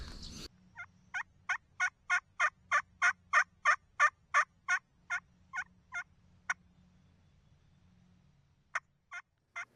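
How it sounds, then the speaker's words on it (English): A wild turkey gobbles from beyond a rise in the Kentucky–Tennessee woods during spring hunting, a long run of about sixteen rhythmic, evenly spaced gobble notes building and fading, then a few isolated calls after a pause, moderately distant. "after a few calling sequences, we finally get a bird to gobble over the rise in front of us"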